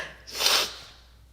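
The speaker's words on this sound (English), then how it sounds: "I need to blow my nose." A single forceful nose blow, a short breathy honk swelling and fading over about half a second, close to the listener.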